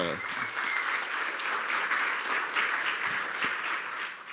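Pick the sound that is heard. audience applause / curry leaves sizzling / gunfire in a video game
audience applause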